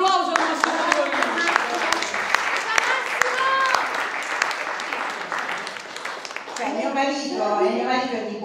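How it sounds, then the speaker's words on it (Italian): Audience applause for actor Massimo Troisi at the Charlie Chaplin award ceremony, a steady wash of clapping that runs throughout, with voices and cheering mixed in and speech rising toward the end. "Quindi un applauso a Massimo Troisi."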